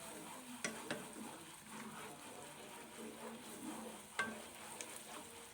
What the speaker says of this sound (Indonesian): kita aduk-aduk supaya bumbunya ini tidak hangus atau gosong